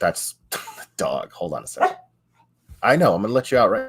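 A dog gives a few close yips and barks mixed in with someone talking, the barks short and sharp between his words.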